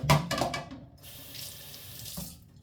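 A kitchen tap runs as a utensil is rinsed under it, first with splashing clatter against the sink, then a steady stream of water that stops with a soft clunk; close and alone, no talk.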